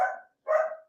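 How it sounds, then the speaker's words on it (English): A dog gives two short, sharp barks close by, separated by a brief pause, with nothing else heard. "I'm so sorry about the dog barking."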